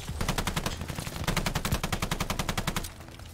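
Rapid automatic fire from a ball turret gun in the shooter game Call of Duty: Vanguard, a loud, steady stream of evenly spaced shots lasting nearly three seconds before cutting off.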